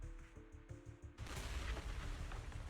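Explosions in the video game Zenless Zone Zero: a sudden loud blast arrives after a stretch of music and keeps booming and rumbling densely, with the ground seeming to shake, through to the end of the clip.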